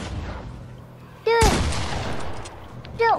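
In a Fortnite match, one loud burst of gunfire hits abruptly, then a sustained rattling roar follows. Short bright chirping effects sound before and after the shots.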